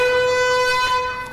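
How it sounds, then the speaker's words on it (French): A steady alarm siren holds one sustained tone rich in overtones, loud and unbroken for about a second before easing slightly at the end. "Est-ce que c'est la sirène qui marque la fin de toute l'énigme?"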